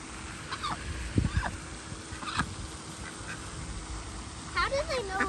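Several ducks quack in short bursts at moderate distance while being fed at a lake in Sanford, Florida, with an outdoor background hum and some voices talking nearby.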